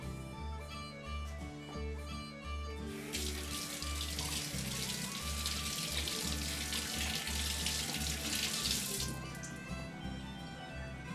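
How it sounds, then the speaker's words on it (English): Tap water runs steadily over hands for several seconds, rinsing off animal fat while baking a cake in a kitchen, a fairly close broadband hiss with quiet background hum and no talk. "Get a little rinse off to get this animal fat off my hands"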